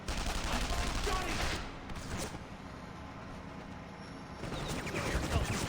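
Gunfire bursts in the Spy vs Spy video game, rapid crackling volleys in the first two seconds and again near the end, with a game voice heard between them.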